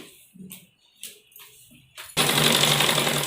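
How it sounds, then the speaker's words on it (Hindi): A sewing machine stitches the seam of a ladies' churidar pajami, starting after a few soft scattered taps and then running as a loud, steady buzzing whir to the end. "दूसरी साइड भी हम इसी तरह सिलाई लगाएंगे।"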